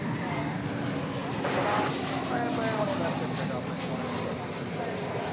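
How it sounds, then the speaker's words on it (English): A Boeing 777 rolls down runway 17 center for takeoff, a steady broad jet engine roar holding throughout at moderate distance, with a commentator talking over it. "rolling down runway 17 center. And again, it's a 777 with America's team aboard."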